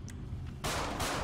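A single sharp gunshot in a GTA roleplay street scene, loud and close, cracking after a short quiet stretch and leaving a brief noisy tail.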